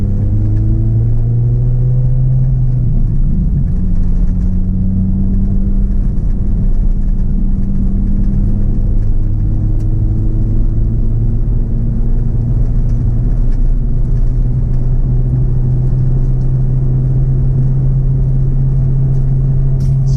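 An Acura RSX Type-S with a cold air intake pulls hard through the rev range, a loud continuous engine drone rising in pitch through the VTEC crossover, heard from inside the car with steady road rumble underneath.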